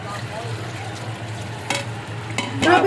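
Pieces of pork sizzle and fry in a wok for sinigang, a constant crackle with a low hum beneath and a few louder scraping stirs near the end.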